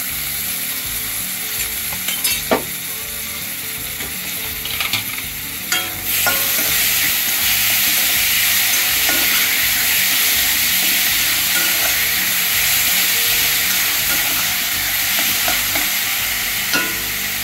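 Medium tomatoes sizzling and frying on roasted onion in a pan, stirred with steady scraping and clinking of a spoon, loud and close throughout with no talk.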